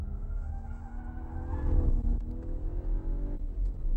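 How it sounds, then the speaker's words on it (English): A BMW 135i with a 3.5-liter six-cylinder engine, power kit and sport exhaust, about 330 bhp, revving and accelerating steadily with a deep, race-car-like drone that swells midway, loud and close. "a BMW with 330 bhp and a very race car-like engine sound thanks in large part to the exhaust system"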